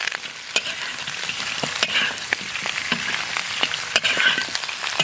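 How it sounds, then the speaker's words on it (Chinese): Donkey ribs stir-frying in a hot wok with scallion, ginger and dried chili: a loud, continuous close sizzle broken by sharp spatula scrapes and clacks against the pan. "驴排炒上色以后，加入葱姜、干辣椒、"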